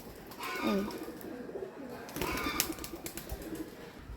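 Pigeons on a rooftop coo softly at a moderate distance, a short burst early and more later, mixed with faint ambient noise and a few brief clicks or rustles.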